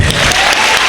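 A church congregation clapping together, a dense burst of applause, loud and close, lasting under a second.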